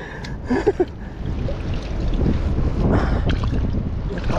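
Strong wind buffets the microphone in a steady, rough roar, with a few brief knocks near the start and no talking.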